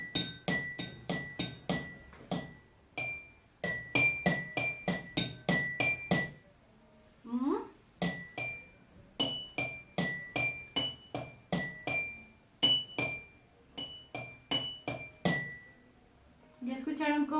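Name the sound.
drinking glasses tapped to make a melody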